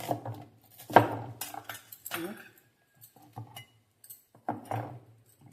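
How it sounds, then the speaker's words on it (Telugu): Potatoes are being cut with a knife, giving a few close, scattered clinks and taps of the blade on a plate or board, separated by quiet pauses. "ఆలు కదా ఇలా కట్ చేస్తున్నాను"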